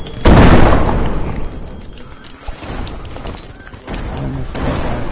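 Bombs go off with a heavy booming blast that rolls into a long rumble, followed by scattered lower thuds and crackling debris, loud and close.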